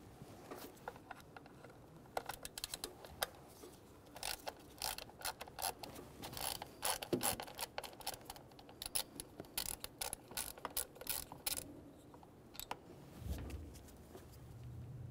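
A ratchet clicks in quick, light, irregular bursts as it backs out the single T25 Torx screw holding the MAP sensor on a 1998-2011 Ford Ranger 2.3L four-cylinder engine, fairly faint and close, with small metallic handling noises.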